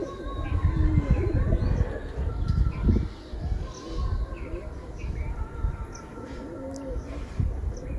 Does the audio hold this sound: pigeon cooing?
yes